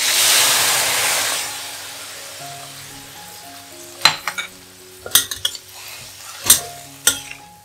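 Cabbage is stir-fried in a wok, with a loud hissing sizzle at the start that fades to a low rumble. After that, a series of sharp spatula scrapes and clanks against the wok comes in irregular bursts.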